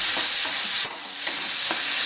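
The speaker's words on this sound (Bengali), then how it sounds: "আরও কিছুক্ষণ নেড়ে চেড়ে নেব যাতে ধনেপাতাটা তেলের মধ্যে একটু ভাজা ভাজা হয়ে আসে" Coriander leaves stir-fried in hot oil while cooking a silver carp fish curry, a steady close sizzle with soft scraping stirs and a brief dip in the crackle partway through.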